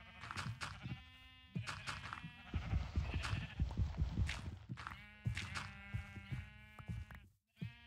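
Repeated wavering bleats from Minecraft sheep overlap almost continuously, loud and close, over a busy layer of game noise and shuffling steps.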